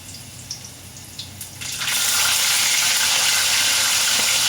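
Ginger and then fish dropped into hot oil, a few faint taps and crackles giving way after about two seconds to a loud, steady, broadband sizzle of frying that holds to the end.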